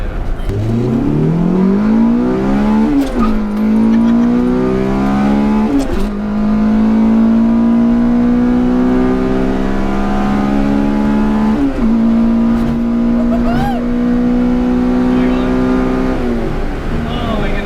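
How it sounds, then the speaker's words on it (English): A Honda Civic EF9 SiR engine revs up hard into VTEC, pitch climbing steadily and holding a high, loud wail, with brief shifts and people talking faintly underneath. "Can we give it a little bit of VTEC?"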